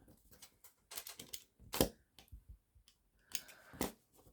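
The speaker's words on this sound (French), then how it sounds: "On essaie de découper au plus près." Scissors snipping through paper or card while trimming pieces for a scrapbook photo album, a few quiet close clicks and cuts spaced irregularly.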